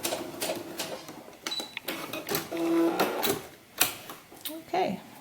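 A sewing machine backstitches a seam on fabric for a doll mannequin, giving short mechanical bursts of stitching with clicks and whirs, close by, under and between intermittent talking.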